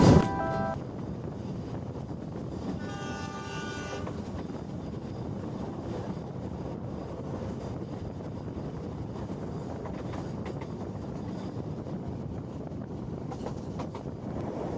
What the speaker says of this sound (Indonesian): Kereta api Serayu tujuan Pasar Senen kini perlahan menurunkan kecepatan, bersiap memasuki stasiun Sasak Saat.